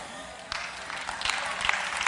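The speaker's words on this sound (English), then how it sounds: "Clap, man." Church congregation breaking into applause that builds over a couple of seconds, a dense crowd of clapping hands heard at moderate distance.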